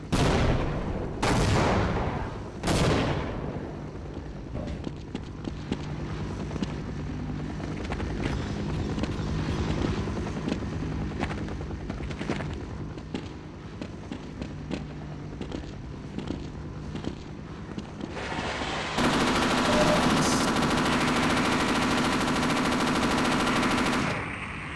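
Rapid bursts of gunfire from Half-Life running on the Source Engine, dense and loud, with sharp shots clustering early and steady firing continuing throughout, then shifting into a brighter, harsher mechanical roar near the end.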